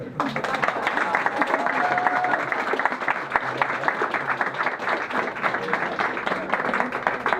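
A group applauds steadily, dense clapping sustained for the whole stretch at an even, fairly loud level.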